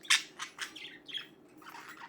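A pet budgie sings and chirps close by in a quick run of bright, high tweets and warbles over about two seconds, with no other sounds.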